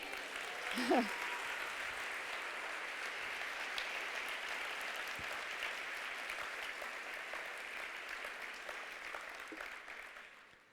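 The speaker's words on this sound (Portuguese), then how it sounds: "Quantos creem nessa palavra, pode aplaudir o Senhor" A church congregation claps in a long, even wash of applause that sounds somewhat distant and reverberant. A brief vocal exclamation comes near the start, and the clapping fades out at the end.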